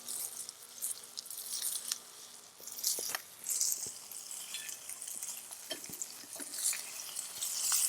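Steady crackling sizzle of trout frying over an open fire, with scattered pops and light clicks, no voices.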